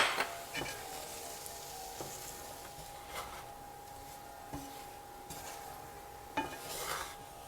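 Vegetables being stirred in a pot to coat them with flour and spices for sausage and shrimp gumbo, giving soft scraping and occasional utensil clinks over a low steady hum, with no voices.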